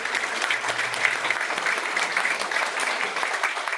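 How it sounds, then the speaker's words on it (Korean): Steady, full crowd applause at a campaign event for a Gyeonggi education superintendent candidate, continuous dense clapping that holds evenly throughout. "힘찬 박수 한번 부탁드리겠습니다"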